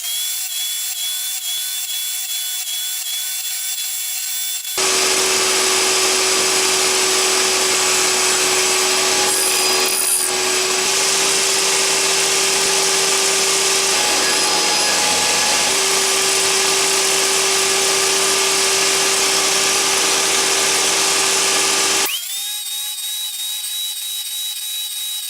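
Table saw with a crosscut sled cutting repeated dado passes across a scrap 2x4; a loud, steady whine of the running blade holds for about seventeen seconds, with brief dips as the wood is fed, then stops abruptly.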